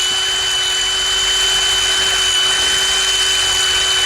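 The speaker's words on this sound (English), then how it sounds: "Why do it manual when you got power tools?" Power tool whirring steadily at high speed, used by a truck driver working on an engine crankcase; a constant loud whine with a steady hum beneath it and no pauses or speech.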